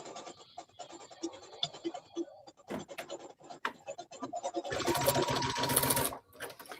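Sewing machine stitching a fabric seam with a half-inch seam allowance, starting with scattered scratchy handling and short bursts, then a loud continuous mechanical whir for over a second before stopping.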